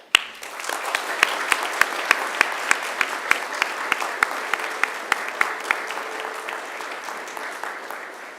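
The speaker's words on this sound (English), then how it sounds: "I now invite you to give them a mighty round of applause." A graduation ceremony crowd of families and friends applauds new graduates: a thick, sustained round of clapping with sharp individual claps popping out close by, gradually thinning toward the end.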